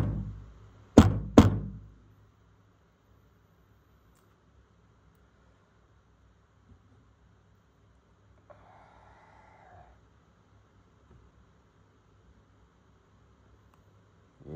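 A GoPro action camera with a swollen, stuck battery is banged against a surface: two close, sharp thumps just after the start, then near silence with faint background noise for the rest.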